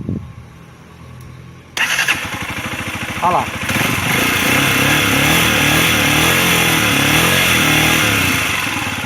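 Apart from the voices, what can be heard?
Dafra Kansas 150 motorcycle engine starting and running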